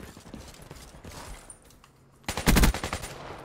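Gunfire rings out in the video game Black Ops 3. A quiet stretch of soft clicks and movement gives way to a loud, close burst of rapid automatic shots, followed by a few scattered trailing bangs.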